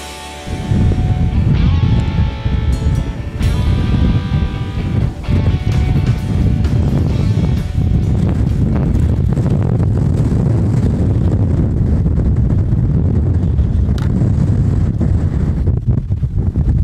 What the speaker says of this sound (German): Mit dem Windsprung an der Böenfront zieht einfach ein Gasnedo durch meinen Standort durch und staubt mich ordentlich ein.